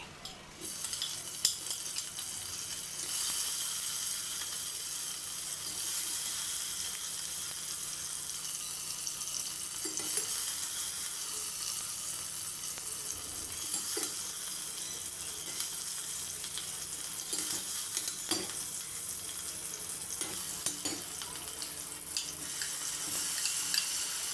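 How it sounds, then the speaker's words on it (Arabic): Steady sizzling of peppers frying in oil, a continuous crackling hiss with occasional stirring scrapes, fairly close and even throughout. "وبحط معلقتين زيت او 3 معالق زيت، وبنزل طبعا بالفلفل بتاعي"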